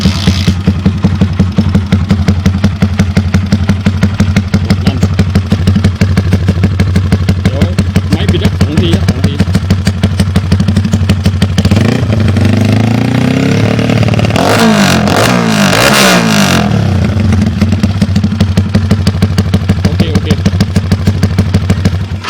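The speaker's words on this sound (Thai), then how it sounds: "เดี๋ยวมาติดเครื่องกันดีกว่าครับ" Honda Sonic 125 motorcycle with a cone-tip exhaust, running loud and close: a rapid clattering idle that swells into sharp revs midway, then settles back to a fast steady beat.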